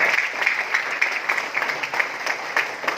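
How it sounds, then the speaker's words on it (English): A room of listeners at a leadership sharing session gives a moderate, steady round of applause, a dense patter of clapping heard from a little distance with no voices over it. "So that deserves a round of applause to them."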